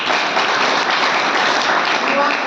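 Audience applause at a business training seminar, a dense, steady wash of many hands clapping at full loudness for the whole stretch, with no break.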